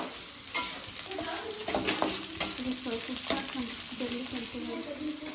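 Chicken masala ingredients sizzling in a pan as ginger garlic paste goes in, a steady frying hiss broken by repeated stirring scrapes and clinks, close and busy throughout.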